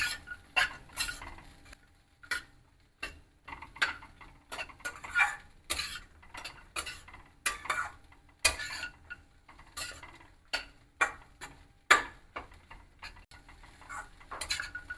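A metal spoon stirring and scraping poha (flattened rice) in a pan, an irregular run of clinks and scrapes repeating steadily over about fifteen seconds, close and alone with no voices.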